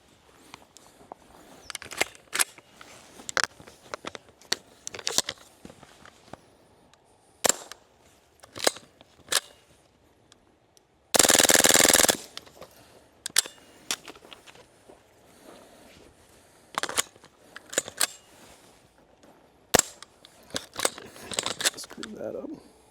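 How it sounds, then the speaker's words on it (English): Suppressed gunshots fired through an AAC Pindrop suppressor, sounding as a string of sharp, dry clicks and pops spread irregularly across the stretch, with a brief loud noise burst midway and people talking at times. "Okay, so I'm going to shoot the first magazine"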